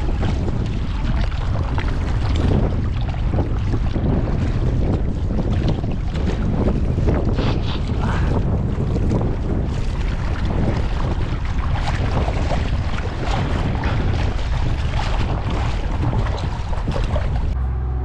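Strong wind roars and buffets loudly and continuously over Talbot Lake, with heavy gusty rumble across the whole stretch and no voices.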